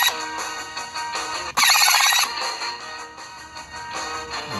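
Recorded music plays back from a pre-recorded cassette on a Sony Walkman WM-GX221, with a short, brighter, louder burst partway through; no voices.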